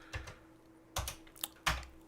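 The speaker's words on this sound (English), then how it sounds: "I am smashing this into a very old breadbox keyboard here, which hasn't been used properly in 30 years" Keys on an old Commodore 64 breadbox keyboard are struck in a few separate, sharp clacks, close and alone, with short pauses between bursts over a faint steady hum.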